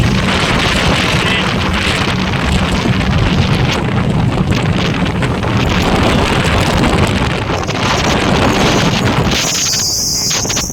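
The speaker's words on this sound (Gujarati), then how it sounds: "બોટ ચાલી રહી છે જેના દ્રશ્યો આપ જોઈ રહ્યા છો." A boat cruises on Fateh Sagar lake in Udaipur, a loud continuous rush of wind and water with engine rumble.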